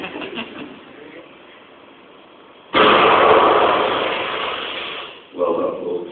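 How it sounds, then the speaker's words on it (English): A shotgun blasting a bomb in the video game Enslaved erupts as a sudden loud broadband burst that sustains and slowly decays, with a second smaller blast following, after a stretch of quieter murmuring talk. "Well done for shooting a bomb."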